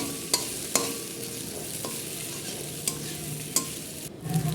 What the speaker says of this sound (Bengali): সেটাকেই আমি কড়াইতে দিয়ে দিলাম। এটাকেই ভালো করে ভেজে নেব।